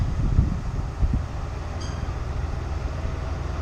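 A train on the heritage railway at Whitwell and Reepham Station in Norfolk rumbles along the track, a low continuous mechanical drone with a couple of heavier thuds early on.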